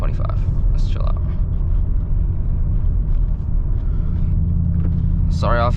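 A loud Mercedes CLS500 engine rumbles continuously while driving down a street, a deep steady roar with people talking over it throughout.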